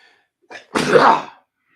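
A single sharp sneeze with a short breathy intake just before it, close and loud, followed by quiet.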